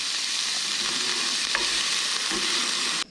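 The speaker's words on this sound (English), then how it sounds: "Saute it till it's really soft. Then I'm going to add some butter to that." Vegetables sautéing in butter for a roux at a camp stove, a loud, dense, continuous sizzle with stirring scrapes that cuts off abruptly at the end.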